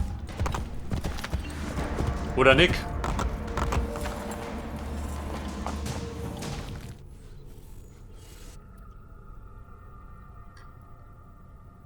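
A horse gallops in Assassin's Creed Brotherhood, its hooves drumming steadily and fairly close for several seconds before the sound drops away to quiet game ambience. A voice speaks briefly.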